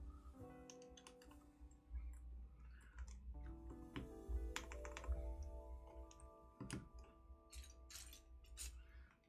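Quiet, close typing on a mechanical keyboard fitted with Green Alps switches, a J-02 build, giving irregular crisp clicky keystrokes over a low background hum.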